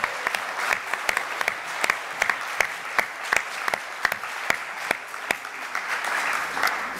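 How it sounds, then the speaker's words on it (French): A crowd at a French political gathering applauds a deputy, with sustained clapping and sharp individual claps standing out above a dense, even wash of hands throughout. "Je crois qu'on peut l'applaudir pour ça."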